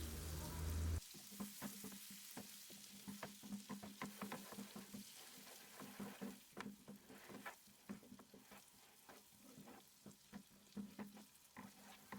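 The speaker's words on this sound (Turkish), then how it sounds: "60 gram tereyağı ekleyelim ve tereyağı eriyene kadar karıştırmaya devam edelim" Butter, 60 grams, stirred in a pot as it melts for a no-bake Snickers cake, giving a soft continuous sizzle with repeated scraping stir strokes, close and steady, without speech.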